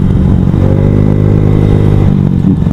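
A motorcycle engine holds near 6000 RPM at a slow road speed, a loud, steady buzzing drone heard up close from the rider's position, with a slight dip in tone near the end.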